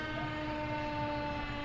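Fire department sirens wail at a homecoming parade, a sustained wavering siren tone over a busy outdoor rumble, steady and moderately loud throughout.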